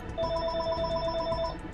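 A telephone rings in rapid trilling bursts, loud and close, steady through the whole stretch over a low background rumble, with no talk.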